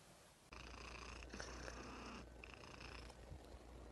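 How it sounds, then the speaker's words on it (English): A cat purrs close to the microphone, a steady low rumbling drone that starts after a brief quiet moment and continues unbroken, with no voices. "Stop purring!"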